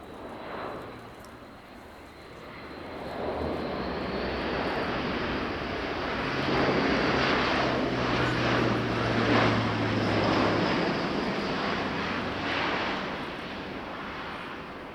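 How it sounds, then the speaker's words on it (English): A large transport aircraft with 14-wheel landing gear descends steeply to land at an air show, its broad engine roar swelling as it passes nearer and then fading slightly, with no voices. "In a steep descent, and we'll see a full stop landing aided by the powerful automatic brake."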